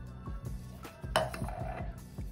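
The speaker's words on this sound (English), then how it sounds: "And then just mix it really well until it melts." Jello powder is mixed with water in a bowl, making repeated soft clinks and scrapes of a utensil against the bowl in a quick stirring rhythm, close and fairly quiet.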